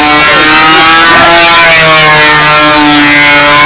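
A control-line model airplane engine screaming at full throttle, a loud, steady, high-pitched buzz with rising and falling harmonic tones that holds throughout without pause.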